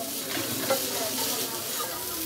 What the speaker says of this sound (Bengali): এখন ভালো করে সবগুলো উপাদান একসাথে মিশিয়ে রান্না করে নিব।